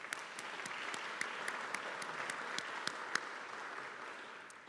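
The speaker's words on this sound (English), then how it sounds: "Round of applause for Fred and Josh, please." An audience at the HASP annual business meeting applauds, a dense, steady clatter of many hands clapping together for several seconds, filling the room at a moderate level.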